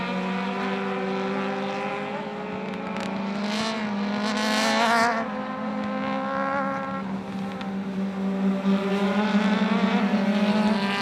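Aussie Racing Cars lap Sydney Motorsport Park in a 2025 race, their engines making a sustained high droning whine that swells and shifts as cars pass at moderate distance.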